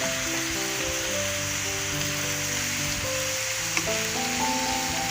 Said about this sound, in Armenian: Սոխորածը տեղադրելուց հետո մենք շարունակ խառնում ենք, այսպես մինչև ստանանք ոսկե գույն։